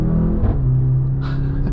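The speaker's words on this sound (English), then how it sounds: "it's still making those crazy sounds, but I don't know, this is a pretty good engine for this vehicle" A 2024 Mercedes-AMG GLC 43 four-cylinder engine hums as a steady, low rumble from inside the cabin in eco mode, with a couple of soft whooshing swells, and nobody speaks.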